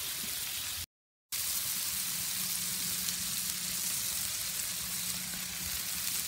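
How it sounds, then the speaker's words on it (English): Babybel-stuffed Juicy Lucy burgers searing on a Camp Chef Pro 90X stove, giving a steady, close hissing sizzle with a faint low hum, broken by one brief silent gap. "I'm going to let them sear over here a little bit, and then I'll flip them"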